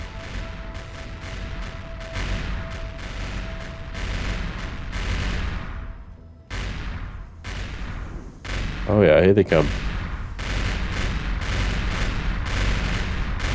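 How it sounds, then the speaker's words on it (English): Flak cannons in the space game Empyrion Galactic Survival fire at incoming attackers, a continuous racket of rapid booming bursts with a louder cluster near the end, while someone talks over the gunfire. "You're gonna hear those flak cannons. Ah, what a racket they make, eh?"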